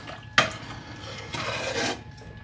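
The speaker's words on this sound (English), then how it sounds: "I'm just going to give it a stir" A spoon scrapes and clinks around a pot of menudo with hominy, one sharp knock followed by a soft, rasping stir that swells and fades, close and fairly quiet.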